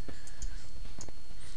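A computer mouse clicking during drafting work, a few sharp isolated clicks over a loud, constant background hum.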